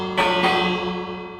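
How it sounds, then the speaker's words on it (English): A bell in Minecraft, played with the Sci-Fi Robots texture pack, strikes twice in quick succession with a bright metallic ring that decays slowly. "Doesn't seem to have changed the bell sound"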